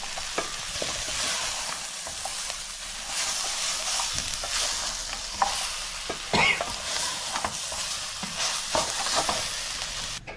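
Turmeric, Kashmiri chilli and coriander powders sizzle and fry in a pan for homemade butter chicken while a spoon scrapes and stirs through them in irregular strokes, close and moderately quiet.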